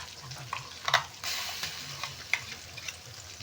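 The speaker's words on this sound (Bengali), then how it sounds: "সমস্ত মশলাগুলো দেওয়ার পরে ভালো করে নাড়তে হবে, যাতে মশলাটিকে ভালো করে কষানো যায়" Desi chicken coated in turmeric, salt and a ginger, garlic and green chilli paste is stirred in a hot pan for kosha, with a soft scraping spoon and a quiet frying sizzle in a few uneven strokes, with no talk.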